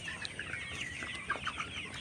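Layer pullet hens on a poultry farm cluck continuously as a dense, overlapping flock chorus, with sharper individual calls popping out now and then at close range.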